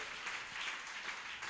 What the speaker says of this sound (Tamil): Let us clap.